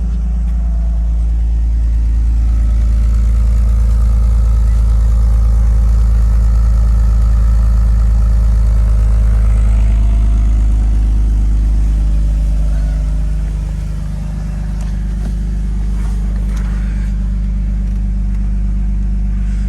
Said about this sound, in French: Donc le moteur tourne vraiment super bien